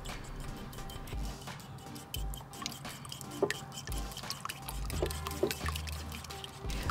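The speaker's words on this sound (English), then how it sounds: "Now crack an egg and get that in there. Now whisk together." Egg and cream are whisked together in a bowl for a Monte Cristo sandwich, giving soft, quick, irregular tapping and sloshing at close range over a low background hum, with no talk.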